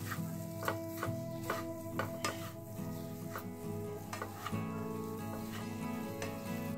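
A spoon stirring powdered milk and cardamom powder into an almond mixture in a wok while making badam katli, with repeated scraping strokes over a soft sizzle close by.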